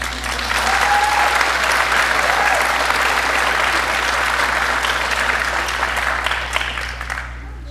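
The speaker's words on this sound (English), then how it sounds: "let's give another round of applause to the 8th grade class" Sustained applause from a large crowd at an elementary school graduation, dense and steady, tapering slightly at the end.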